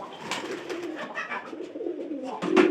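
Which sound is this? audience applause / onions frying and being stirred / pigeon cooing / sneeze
pigeon cooing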